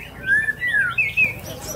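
A white-rumped shama (murai batu) sings at a songbird contest in a housing estate in Palembang, with clear whistled phrases rising and falling in quick succession, loud and close over faint background noise.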